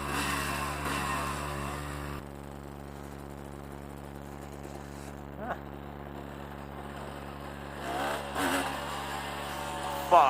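Honda CRM 250 AR two-stroke motorcycle engine running with a steady harmonic drone, then revving up in short bursts around the middle and end, loudest in a final surge.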